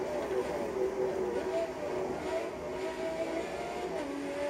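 Race car engine from the video game Forza 7, an open-wheel car at about 150, droning steadily at high speed with shifting engine tones and road noise throughout.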